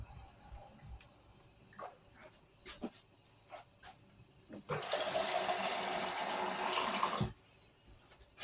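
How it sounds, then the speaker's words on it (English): Scattered clicks and a dog's whimpers, then a tap runs for a few seconds, water splashing steadily into a sink over broccoli being washed before shutting off. "Washing the broccoli."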